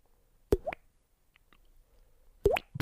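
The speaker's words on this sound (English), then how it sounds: "You gotta fix that leak, dude." Water dripping from a leak, two distinct plopping drops about two seconds apart, close and fairly quiet, with near silence between them.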